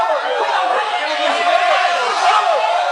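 Crowd at an MMA fight roaring in a steady, dense wash of voices, loud and continuous throughout with no single voice standing out.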